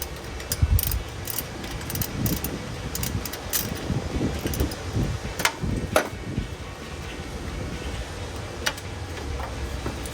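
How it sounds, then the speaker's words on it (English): Ratchet wrench with an 8 mm socket turning bolts on a 2022-2024 Toyota Tundra during a cold air intake install, giving a steady run of close, dense clicking and metallic clatter with no talk. "The 8 millimeter socket and wrench."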